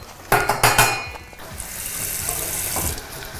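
Hot water poured from a kettle into a pot of frozen tortelloni on a kitchen stove, opening with a few clattering knocks and then a steady splashing pour, with no talk.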